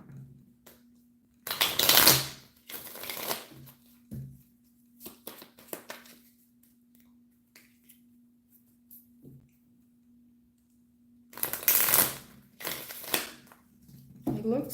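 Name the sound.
shuffling tarot cards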